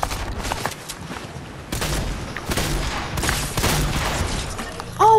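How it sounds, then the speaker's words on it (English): A new shotgun fires in Fortnite, a series of loud, sharp blasts spaced unevenly over a few seconds, mixed with other gunfire and game noise, ending in a sudden louder burst. "Oh, I love this new shotgun."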